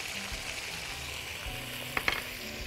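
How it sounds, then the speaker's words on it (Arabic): Chicken pieces frying in a pan of oil and butter give a steady close sizzle, with a couple of brief utensil clicks near the end while bechamel chicken is being cooked. "حطينا زيت وزبدة، نزلنا عليهم الفراخ"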